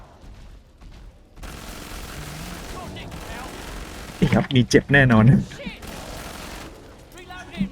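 Rapid bursts of gunfire ring out in the video game Killing Floor 2, clustered loud shots over roughly a second and a half, mixed with someone talking and game ambience.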